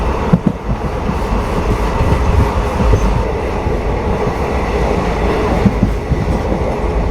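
A train running on the Okha railway line, crossing slowly, gives a loud continuous rumble of wheels and carriages with occasional rhythmic clicks from the track, close and steady throughout.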